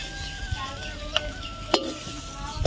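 Ground fig leaf and prawn paste stirred in a pan, a low sizzle under a few sharp scraping clinks of the spoon against the metal, spaced irregularly.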